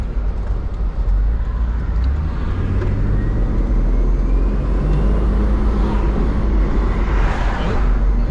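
A Toyota Land Cruiser 80 Series engine pulls hard at full throttle onto a highway, a loud sustained low roar from inside the cabin with a voice faintly present.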